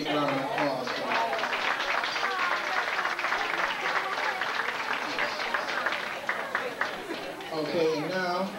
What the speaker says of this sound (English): I'd like to get a big round of applause for it